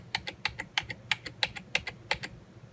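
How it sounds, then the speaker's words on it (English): A computer keyboard key is tapped repeatedly in a quick, steady rhythm, about a dozen crisp clicks close up, with no voices. "hit delete key on the keyboard multiple times until some new options show up on the screen"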